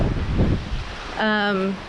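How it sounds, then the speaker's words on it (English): Broadband wind noise buffets the microphone throughout, with a person speaking briefly near the end. "Bloody hell, it's windy."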